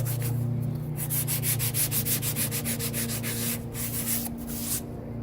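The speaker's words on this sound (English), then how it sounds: "I can use the block on it. You have to sand kind of light" Sanding block worked lightly over the driver's rear quarter panel of a 2003 Cadillac CTS, producing a quick, even run of about twenty close, raspy back-and-forth strokes, then a short pause and a few more.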